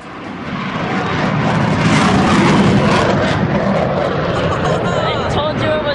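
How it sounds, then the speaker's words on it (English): A jet at an airshow at Mather Airport roars loudly with its afterburner lit, a dense, sustained rumbling blast that swells and holds through the whole stretch, with spectators talking underneath. "Look at the afterburner."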